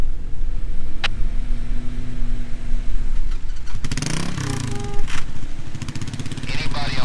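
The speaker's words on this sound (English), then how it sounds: "Give it gas in reverse!" A stuck Ford F-150 pickup revs its engine in reverse, the motor rising and roaring in bursts over the last few seconds, with loud outdoor voices and radio chatter around it.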